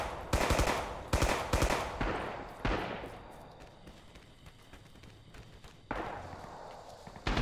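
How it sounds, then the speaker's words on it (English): Gunshots in Rising Storm during a night fight near a bridge: several loud, close rifle reports, including a quick burst early on, each trailing off into echo, with a quieter lull before another sharp shot and a final report. "And shots fired."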